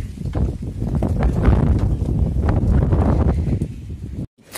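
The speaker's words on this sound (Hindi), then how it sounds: "हवा चल रहा है" Strong wind blowing outdoors, buffeting the microphone with a loud continuous rumble and rustle that cuts off abruptly near the end.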